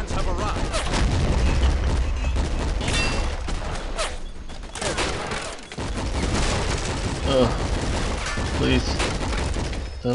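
Dense gunfire and explosions from the strategy game Men of War: Assault Squad, a continuous loud battle din of rifle and machine-gun bursts with booming impacts, a brief lull midway, and a voice talking over it.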